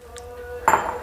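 Tomatoes drop into a hard mixer jar with a brief clunk and light clink, one quick impact after a quiet moment.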